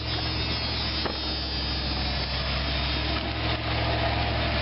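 An engine idles steadily throughout, a constant low droning hum with no pauses, close by and moderately loud, alongside electrical hum while work goes on around a scrapped transformer.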